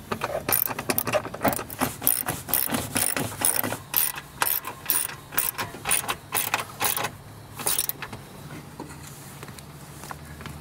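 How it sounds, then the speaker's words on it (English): A ratchet wrench with a 10mm socket backs out bolts on a Toyota RAV4, giving quick repeated clicking bursts up close, then pausing as the work moves on. "Now we will be using the 10mm socket to remove all the bolts."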